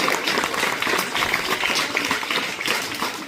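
An audience at a village school function welcomes a guest with steady, dense clapping that stays loud and even throughout.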